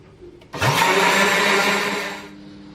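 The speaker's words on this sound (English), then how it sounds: "I'll pour it inside the blender and then I'll blend." A blender blending shea butter whirs loudly for about two seconds after a quiet start, steady and high-pitched, then cuts off abruptly.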